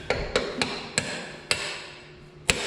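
Six sharp metallic hammer blows at uneven intervals while a Mack truck is being reassembled, close and ringing over a low background hum.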